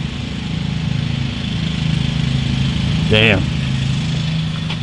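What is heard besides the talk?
neighbor's lawn mower running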